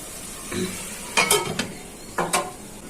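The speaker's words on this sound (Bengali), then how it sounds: "এখন আস্তে আস্তে মশলাটা মাছগুলো কষানো হয়ে যাক।" A spatula scrapes and stirs tiger prawns in spice paste in a pan in a few short bursts, with a faint sizzle of frying underneath and no talking.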